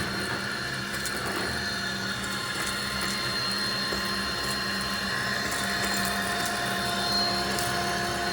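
A vacuum cleaner running continuously while cleaning a chinchilla cage, a loud steady whine and roar with faint rattles of debris being sucked up, no talking.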